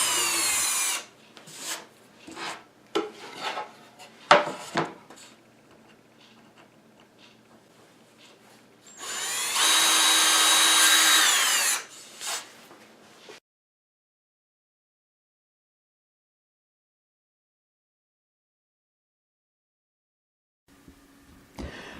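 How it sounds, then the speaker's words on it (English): Drill boring 1/8 inch blind holes into wooden squares, in short bursts of whirring and rubbing followed by one sustained loud drilling run, then silence. "drilled a 1/8 inch diameter blind hole in the center of each square"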